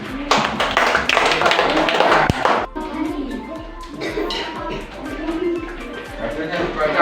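A group applauds with a burst of clapping hands that fades after a couple of seconds, followed by scattered taps and people talking.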